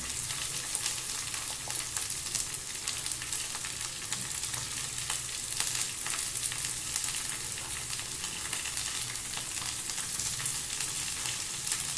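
Beans and carrot sauté in a hot pan for a vegetable kurma, a steady, even sizzle that runs unbroken throughout with no talk.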